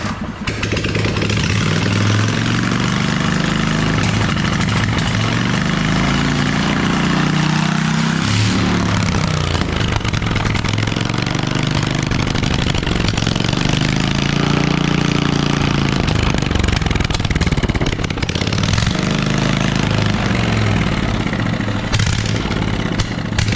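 A propane engine running on gasoline, clamped to a table, roars loud and close without pause, its pitch surging and sagging unevenly as it labours on the fuel.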